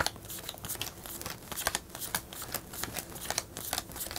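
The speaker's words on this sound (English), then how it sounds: "So when Julie shuffles, you can give it to me next time and I'll shuffle for you." Playing cards shuffled by hand during a board game of Clank! Catacombs, a close, steady run of rapid riffling flutters and snaps with no talk.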